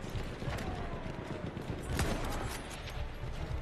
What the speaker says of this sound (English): Machine gun, hostile.